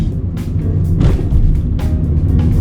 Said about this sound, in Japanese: 踏み込みながら登っていきます。